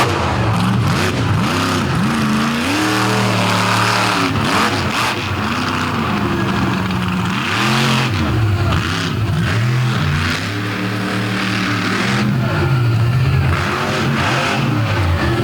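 A loud, powerful monster truck engine, stalling and refiring, roars and revs repeatedly, dipping and surging back up in waves, close by with crowd noise behind it at a night monster truck show in Benson, North Carolina.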